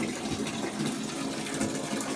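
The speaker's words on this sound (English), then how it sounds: "Oh, the sink is working. Just a bit." A sink tap runs weakly during a Texas snowstorm freeze, giving a soft, steady hiss of running water with faint splashing, quiet and continuous.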